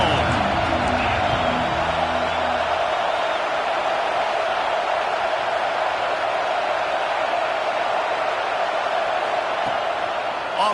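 A home crowd at a football game keeps up a loud, steady roar of cheering that fills the whole stretch without a break.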